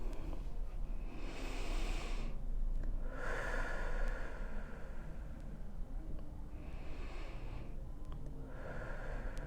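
Slow, deep breaths during a guided meditation, with two long audible inhale-and-exhale cycles that sound close and soft against a quiet background hiss.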